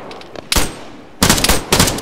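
Bursts of automatic gunfire from the Arma 3 military game, a short volley followed by two longer rapid strings, loud and sharp against faint distant shots.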